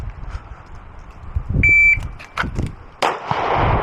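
Glock 26 pistol fired at a shooting drill from concealment, a few sharp close reports spread over a few seconds, joined by a brief electronic timer beep.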